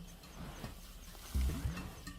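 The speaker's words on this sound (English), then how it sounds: "Muffled sounds give away that a warthog is in its den." A warthog hidden in its underground den gives a couple of low, muffled grunts, faint and brief against a quiet night-time wild African background.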